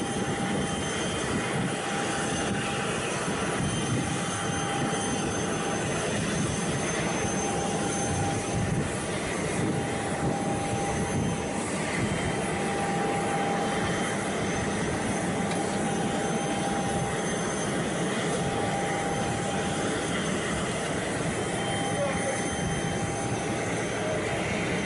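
A private plane heard as a steady, broad engine roar that holds at an even level the whole time, with no talk over it.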